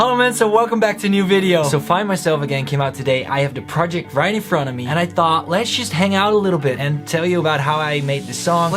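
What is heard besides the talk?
No everyday noises stand out.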